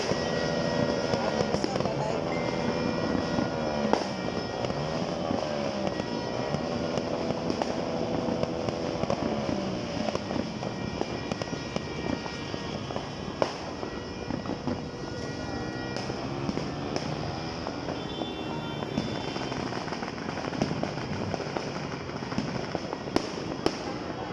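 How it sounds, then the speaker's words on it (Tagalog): A steady crackle and popping of New Year fireworks fills the air, with faint voices underneath and a constant rumbling background throughout. "Ganda ng fireworks."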